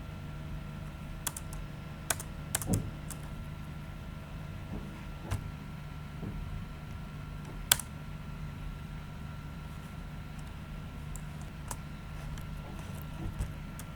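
A computer keyboard is typed on during a Python coding lesson: scattered, fairly quiet key taps with irregular gaps over a steady background hum.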